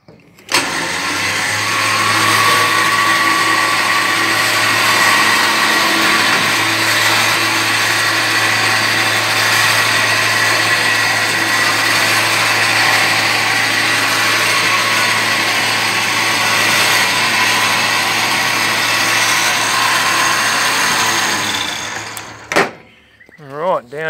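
A homemade tipper trailer tray being lowered, with a steady, loud, continuous motor or hydraulic pump whine running for about twenty seconds and then cutting off abruptly near the end.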